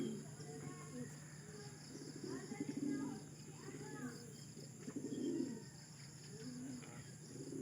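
Racing pigeons at a loft give soft, repeated cooing calls in rhythmic bursts, fairly quiet and close, over a faint steady background hum.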